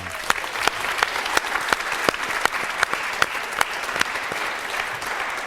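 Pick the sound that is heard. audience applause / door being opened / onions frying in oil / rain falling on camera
audience applause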